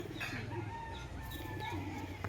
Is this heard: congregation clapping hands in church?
no